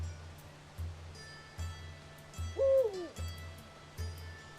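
A loud owl hoots in a Robin Hood Sherwood Builders forest video game: one clear, gliding two-part call stands out over a steady, pulsing low ambient drone and faint background sounds.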